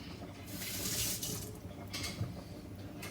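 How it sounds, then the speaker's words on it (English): Fingers are rinsed under a running kitchen tap, a soft, steady splash of water into the sink that briefly surges and shifts as the hands move through the stream. "Give my fingers a wash."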